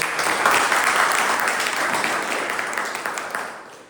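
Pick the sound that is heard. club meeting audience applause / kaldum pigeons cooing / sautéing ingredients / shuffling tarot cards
club meeting audience applause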